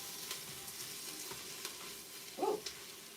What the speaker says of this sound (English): Get my onion to stir again.